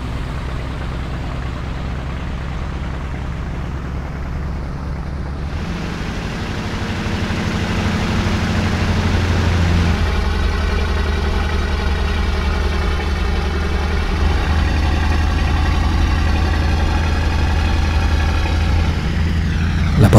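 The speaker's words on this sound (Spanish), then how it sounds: "La potencia de los 3 motores los lleva al aire fácilmente pese a su pesada carga." A heavy three-engine bomber loaded with bombs runs its engines on the ground, a steady droning roar that swells louder midway as power builds for takeoff.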